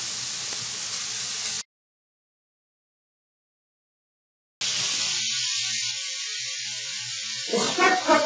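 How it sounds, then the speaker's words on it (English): Shrimp sizzle in a pan on the stove, a bright steady hiss that cuts out to silence for a few seconds, then returns just as loud with some crackling toward the end. "The shrimp cooked up very quickly, 2 minutes per side"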